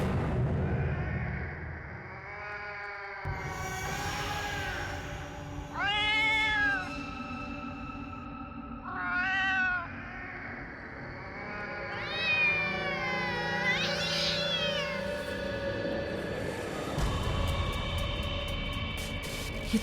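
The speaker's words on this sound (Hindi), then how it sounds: "ये तो वही बिल्ली की आवाज है" A cat gives several drawn-out, wavering meows with pauses between them, heard close over a low background rumble.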